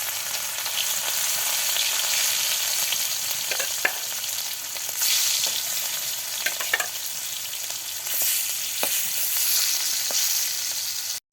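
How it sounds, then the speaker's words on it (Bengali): Spiced fish rubbed with turmeric, salt and chilli frying in hot oil in a wok, a continuous close crackling sizzle with a few sharp pops and spatters, no voices. "তেল গরম হয়ে গিয়েছে, এবার মেখে রাখা মাছগুলো দিয়ে দিল।"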